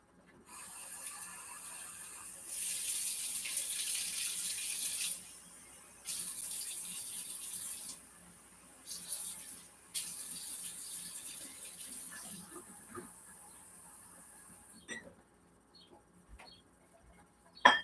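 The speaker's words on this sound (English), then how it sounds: "we're going to get a cup of lukewarm water" Lukewarm tap water pours into a cup in a home kitchen, a steady high hiss in several bursts broken by short pauses, ending with a few light clinks and knocks.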